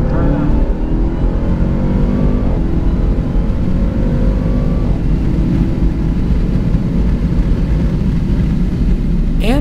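A 2021 Dodge Durango Hellcat SUV, 710 horsepower, driven hard around Carolina Motorsports Park, its engine loud and close with rising and shifting pitch through gear changes, a steady heavy roar throughout.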